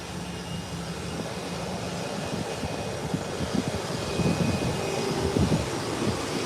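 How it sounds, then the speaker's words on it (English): A Beechcraft 1900 twin-turboprop rolling out at Howard Hamilton International Airport, with a steady broadband engine roar that swells slightly as it goes, heard from a distance with a faint low drone beneath. "Beechcraft 1900 rolling out to Grand Turk"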